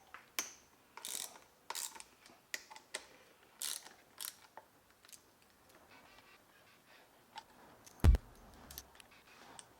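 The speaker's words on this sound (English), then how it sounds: "Just undo your mirrors with a 17mm spanner" Quiet, close metallic clicks and scrapes come from a 17mm ring spanner undoing a mirror on a Suzuki DRZ400 motorcycle, irregular short taps with a sharper knock near the end.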